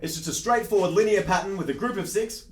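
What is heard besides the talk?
No everyday noises stand out.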